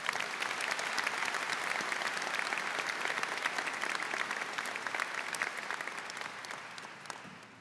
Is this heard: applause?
yes